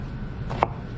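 Knife cutting an onion on a cutting board, one sharp close chop landing on the board amid quiet background.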